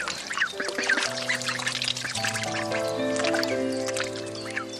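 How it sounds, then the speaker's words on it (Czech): Farm ducks splash and paddle in water, with scattered quacks and dripping splashes over a steady background of sustained tones. "Ty kačeny z Dinopark užívají úplně na plný pecky"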